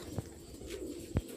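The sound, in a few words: pigeon cooing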